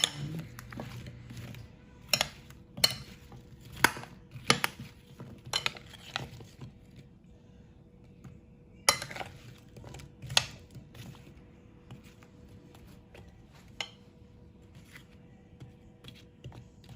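Candied yams, made Jamaican style, being mixed in a baking dish: a spoon clinks and scrapes against the dish in scattered sharp knocks, with quieter stirring between them.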